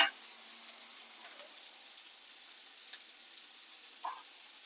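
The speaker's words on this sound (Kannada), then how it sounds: "ಇವಾಗ ಇದಕ್ಕೆ ಬೆಳ್ಳುಳ್ಳಿ ಹಾಕೊಂತ ಇದ್ದೀನಿ ಚೆನ್ನಾಗಿ ಫ್ರೈ ಮಾಡ್ಕೋಬೇಕು" Garlic frying in a pan for a mixed greens and potato capsicum gojju, a faint, soft sizzle running steadily with a brief clatter at the start and a small stir near the end.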